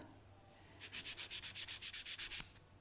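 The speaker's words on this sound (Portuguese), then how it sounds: "Vou usar a 120 e aqui vamos limar" A 120 grit file rasps across an acrylic gel nail extension being shaped into an almond form, making about a dozen quick, even back-and-forth strokes close up, with no talking.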